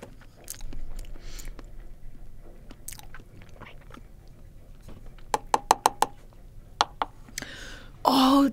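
Mukbang eating of Vegemite: sharp close-up bites and crunchy chewing clicks in a quick run near the middle, with a louder burst at the end, over quiet room tone.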